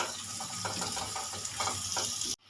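Chopped onions sizzle in hot oil in a pan for egg tadka, a steady, bright frying hiss close by with soft stirring crackles, ending abruptly.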